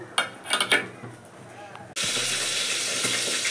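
Fish rubbed with salt and turmeric drops into hot oil and bursts into a loud, steady broadband sizzle that fills the kitchen, following a few seconds of quieter clattering and handling before it.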